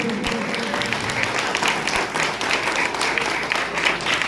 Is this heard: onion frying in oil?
no